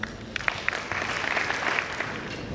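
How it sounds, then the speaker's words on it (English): A small audience gives a faint, thin round of applause for the Mayar Theatre Group at a welcome event for the Archbishop of Bhopal, scattered claps blending into a soft, distant patter. "Please put a huge round of applause for our participants."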